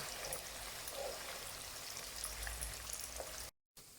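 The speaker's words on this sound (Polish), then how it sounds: "Ten tofu trzeba smażyć, aż będzie kolor taki delikatny złoty." Tofu sizzles in hot oil in a pan, a soft, steady crackling hiss with small spits and pops, fairly quiet and continuous before cutting out briefly near the end.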